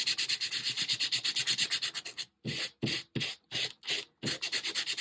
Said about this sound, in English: as you rub with your sandpaper, the image comes right out